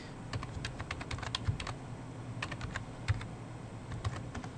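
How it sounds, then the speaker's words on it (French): A password is typed on a computer keyboard with a US layout, a few quick bursts of crisp key clicks separated by short pauses, close and clear with no talking. "on va taper ici le mot de passe en se connectant sur le nom qu'on a mis là"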